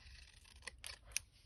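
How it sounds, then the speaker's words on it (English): Scissors snipping through card for a paper craft kit, three quick crisp cuts close up at a low level, with no talk. "And then I'm going to take my scissors and do it the other direction."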